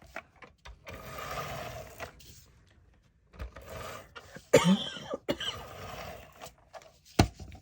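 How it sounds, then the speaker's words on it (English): Several sharp coughs burst out close by, scattered among quieter mechanical whirring and shuffling sounds. "Again, I apologize for the coughing."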